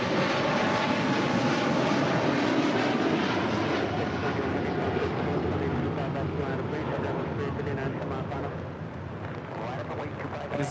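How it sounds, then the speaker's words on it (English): A Polar Air Cargo Boeing 747-8 freighter roars on departure from LAX, a loud, sustained jet rumble that fades slightly over time. "That is Polar Air Cargo 9601 departing to Seoul on a 747-8 freighter"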